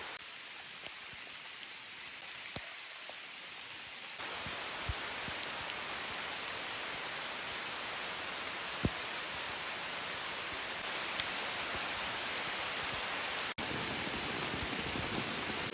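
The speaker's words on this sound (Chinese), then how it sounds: "突然下雨了" Steady rain falls in a forest, a dense, even hiss of drops on leaves and ground with occasional louder single drips.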